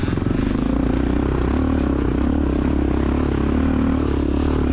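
Honda XR600R dirt bike on a cross-country course, its engine held in second gear while climbing a hill, a loud, close, steady thumping drone with rattling and no talk.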